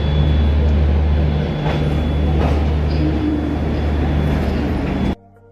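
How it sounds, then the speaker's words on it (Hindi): A steady, loud low rumble of a train rolling along the tracks, with faint rhythmic clatter and a high whine, ending abruptly. "Train new Delhi railway station से निकल ही गई।"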